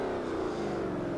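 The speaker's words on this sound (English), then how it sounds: "you'll hear this engine under my voice anyway" A Ford 5-litre engine revs steadily in the Forza racing game, a continuous loud drone with a deep rumble that holds the whole time, with no talk over it.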